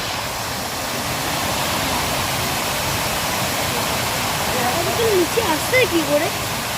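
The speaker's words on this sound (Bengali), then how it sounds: "ওপর থেকে জলটা পড়ছে" Water pours heavily over a dam swollen by monsoon rain, a loud, continuous roar of rushing water filling the whole scene, with a voice briefly talking near the end.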